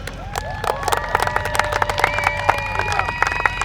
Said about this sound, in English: How about another round of applause for your 2015 Thunder Hall of Fame?